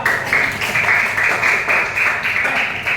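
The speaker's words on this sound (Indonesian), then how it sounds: "Tepuk tangan untuk kelompok dua." Fifth-grade pupils applaud a student group at the end of a class presentation on cyber dangers. The close, lively clapping comes in uneven bursts and keeps going for about three seconds.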